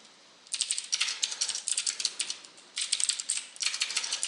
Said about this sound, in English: and we fail at typing repeatedly.